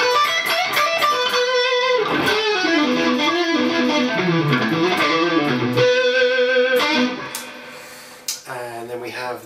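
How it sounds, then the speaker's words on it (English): PRS Custom 24 electric guitar on the middle pickup position, played as a melodic run of clear sustained notes and chords, close and loud, with no talking over it. "Then we have the 2 pickups in the middle, so the middle position, which I quite like this sound."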